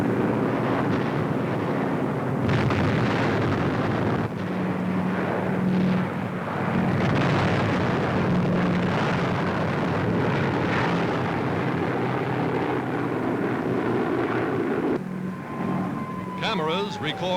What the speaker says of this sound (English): the Allies are dropping their bombs upon the heart of Nazi Europe